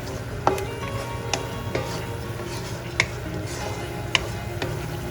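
A spoon stirs mutter paneer masala in an open dish, soft scraping under a low steady background hum, with a handful of sharp clicks as utensil taps the dish at irregular intervals.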